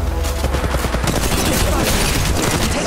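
Rapid bursts of automatic gunfire from a battle in the mobile shooter Apex Legends Mobile, dense overlapping shots crackling loudly and continuously with no pause.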